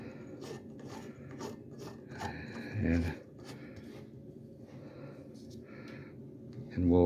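An incandescent light bulb being screwed into the socket of a handmade clarinet table lamp, giving close, quiet ratcheting and scraping clicks in short bursts, with a soft thump midway and another at the end.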